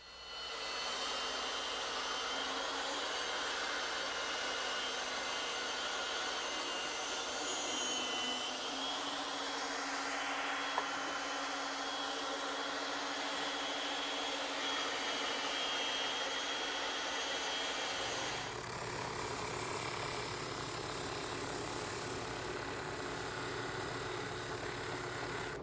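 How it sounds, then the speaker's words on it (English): A bandsaw and a drum sander run in a woodworking shop, making a continuous machine whir and roar. The pitch shifts midway as the load changes, and a harsher, brighter tone takes over near the end. "now it's back to the bandsaw and the drum sander"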